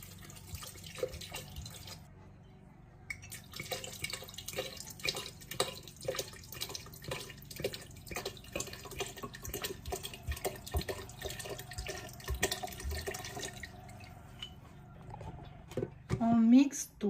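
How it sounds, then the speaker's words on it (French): Water is poured and splashes into a container while lemonade is made with lemon and condensed milk, a thin continuous trickle with small clinks and handling noises close by. "On rajoute de l'eau."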